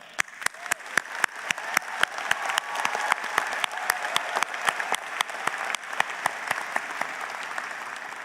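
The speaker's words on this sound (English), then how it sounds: "let's take a moment to acknowledge our grads with a round of applause" Graduates at a university convocation ceremony receive a round of applause, sustained crowd clapping filling a large hall, with a few sharp, prominent nearby claps in a steady rhythm over the dense wash.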